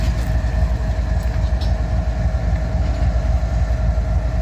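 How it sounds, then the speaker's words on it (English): A loaded coal train rolls north past the listener, its steady loud rumble and rail noise continuous and close throughout, with no voices. "the coal train is rolling north"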